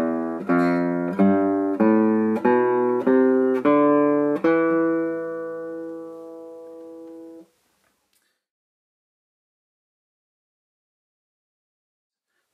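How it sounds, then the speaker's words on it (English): A guitar plays a Phrygian scale in the low bass register, about eight plucked notes in steady succession, the last note ringing out and decaying into silence. "This will produce a Phrygian scale, which is used very often in flamenco music"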